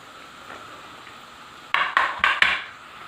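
Finger fish pieces dropping into hot oil for deep frying: a faint steady hiss, then four sharp bursts of spattering sizzle in quick succession, close and loud, with no talking.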